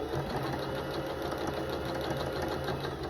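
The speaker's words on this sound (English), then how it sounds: "So I'm going to bring the sewing machine over" Sewing machine stitching quilt scraps with a quarter-inch seam, a steady, close, continuous motor whir with rapid needle chatter running unbroken, no voices.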